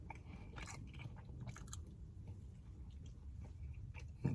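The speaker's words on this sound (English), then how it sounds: "I'm gonna take a little bite" Bites and chewing on a bun with cheese, soft crunchy mouth sounds repeating close to the mic over low background rumble, with no talking.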